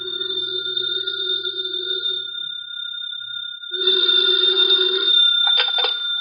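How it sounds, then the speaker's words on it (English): An old-fashioned telephone bell rings in a house on Berry Hill Lane, two long bursts of ringing set apart by a short gap, clear and close, with a brief clatter at the end as the receiver is picked up. "the phone in the Lawrence house on Berry Hill Lane began to jingle"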